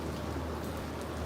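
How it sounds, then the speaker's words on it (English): Heavy rain pours down in Tokyo near a bridge on a cold, flooded summer day, a dense, steady close hiss of falling water with no pauses. "It seems like this is all the rain from the bridge."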